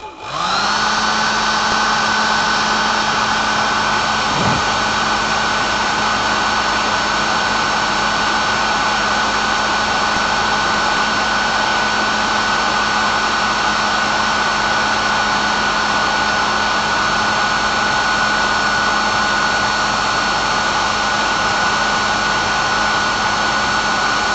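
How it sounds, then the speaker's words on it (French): A hair dryer blows steadily and loudly for the whole stretch, a constant high whine over a broad airy rush with no breaks. "j'y vais au sèche-cheveux directement"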